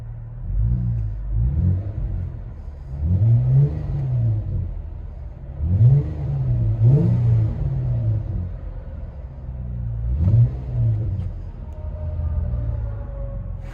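Inside the cabin of a 2016 Jeep Wrangler Sport V6 fitted with a true dual Borla Pro XS exhaust, a muffled, deep rumble swells through four or five revs over a steady idle, with no talking.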